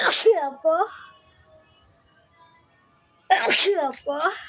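Two loud sneezes from a person doing a sneezing challenge, one at the start and one near the end, each breaking into voiced bursts, close to the microphone, with near silence between them.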